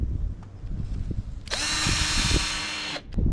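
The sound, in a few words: power drill drilling a pilot hole through melamine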